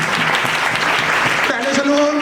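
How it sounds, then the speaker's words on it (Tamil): A church congregation clapping during a sermon, a brief burst of loud applause with a voice talking over the end. "அவனுக்கு ஒரு கைத்தட்டு கொடுக்க"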